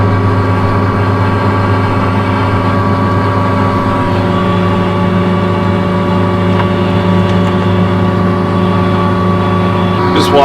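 Combine harvester folding up its header, a loud steady diesel engine drone with deep harmonic hum, continuous and near throughout.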